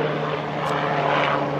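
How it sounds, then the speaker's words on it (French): A helicopter passes overhead above a van parked near roadworks, a steady broadband rotor and engine drone with a low hum, loud and unbroken throughout with no talking. "L'hélicoptère, voilà."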